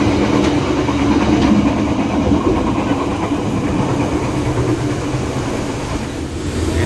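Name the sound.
Mutiara Timur passenger train rattling on rails, inside dining car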